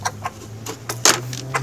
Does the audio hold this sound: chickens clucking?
yes